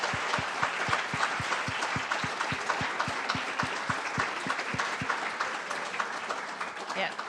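An audience applauds after an art talk on color, a loud, sustained wash of many hands clapping close by. Someone speaks over it, and it tails off slightly near the end.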